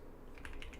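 Rapid typing on a computer keyboard during a Type Racer game, a quick run of close, light key clicks over a steady background hum.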